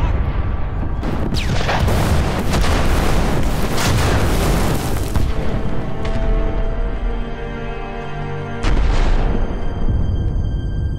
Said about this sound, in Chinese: 都大轰炸了，你们还不跑